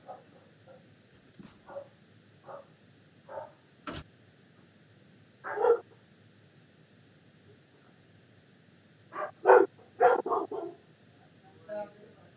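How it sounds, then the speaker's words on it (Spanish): A pack of household dogs barks on and off in short scattered bursts at moderate distance, some sharper yips among them. "qué pena que se me alborotó la jauría"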